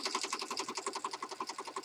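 A sewing machine zigzag stitches around the edge of paper with black thread, giving a fast, even mechanical chatter of closely spaced needle strokes, moderately loud and close.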